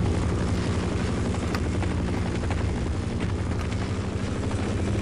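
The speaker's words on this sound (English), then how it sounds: "that was the chopper shooting at me." A military helicopter in the game Half-Life thunders overhead with a dense, continuous rotor chop, loud and close, holding steady without speech.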